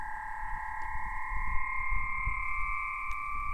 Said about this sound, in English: This work is an Aeolian harp, a musical instrument played by the wind.